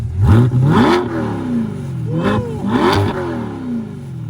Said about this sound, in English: he's gonna rev it for us so you guys can hear what it sounds like